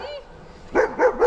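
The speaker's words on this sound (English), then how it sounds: "what are you barking at?" A dog barks three times in quick succession, fairly close, after a short stretch of quiet background.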